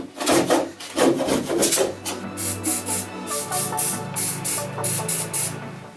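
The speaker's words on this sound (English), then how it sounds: "I've also got this like crappy paint scraper just to get the foam stuff off." A cheap paint scraper rasping foam off a van window, steady rhythmic scraping strokes, close and loud, with no talking.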